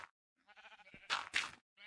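Sheep in the Minecraft video game bleat in a few short wavering calls, one after another, loud and close with no talk.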